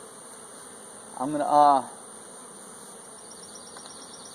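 Honey bees buzz around hives on a farm as top nucs and a queen are removed, a steady droning swarm close by, with someone speaking briefly over it.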